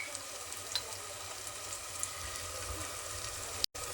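Ginger-garlic paste and turmeric sautéing in a pan as masala for home-style rajma, a soft continuous sizzle with a few faint clinks, steady and fairly quiet, with no one speaking.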